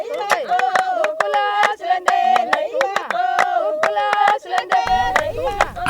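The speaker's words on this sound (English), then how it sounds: "merging with their syncopated clapping and chanting" A group claps in a syncopated rhythm while voices chant in unison, sharp handclaps punctuating sustained sung tones, with a burst of noise entering near the end.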